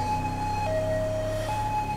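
Fire engine siren approaching in the video game GTA 5, a steady two-tone wail alternating between pitches, loud and continuous over low vehicle rumble, with no talk.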